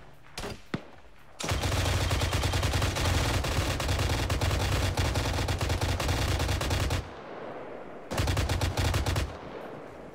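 Machine gun fire in ARMA 3, loud sustained bursts of rapid automatic shots, one long burst of about five seconds and a shorter burst after a brief pause, with a few isolated shots at the start.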